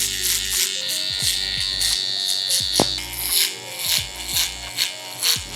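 An electric shaver buzzes steadily during an at-home haircut, then breaks into short, repeated passes as it is pushed up through the hair, close and fairly quiet.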